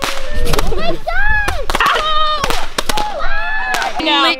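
Fireworks and firecrackers bursting during a New Year celebration in Taiwan, sharp cracks and bangs scattered through the clip beneath excited shouting and loud talking voices close by.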